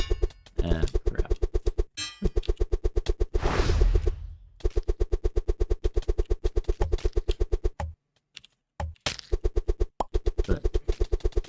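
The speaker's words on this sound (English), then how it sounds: "Stupid robots who can shoot from afar." Rapid bursts of gunfire from distant robot enemies in the video game Necesse, a dense run of rhythmic shots repeating in long strings with brief pauses and a louder blast in the middle.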